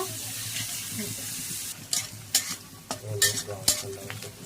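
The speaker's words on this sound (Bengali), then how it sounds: "তারপর দিয়ে দিলাম পেঁয়াজ, তারপর পেঁয়াজটা হালকা ভেজে নেব।" Onions sizzle in soybean oil in a pan, a steady frying hiss at first, then joined by a run of scraping and stirring strokes and splashy crackles toward the end.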